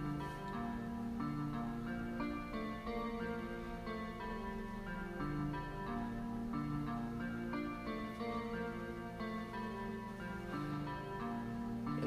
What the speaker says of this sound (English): just a little guitar strum sound.